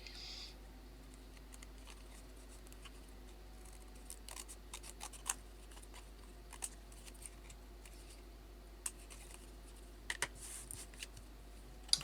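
Scissors trim the corners of paper into rounded fence palings, giving faint, scattered snips and clicks at irregular intervals over a quiet background.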